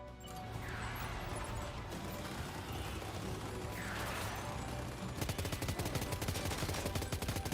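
Rapid automatic gunfire from a vehicle while driving in the video game Death Stranding 2, a dense continuous rattle of shots over a steady engine rumble, growing sharper and more rhythmic toward the end.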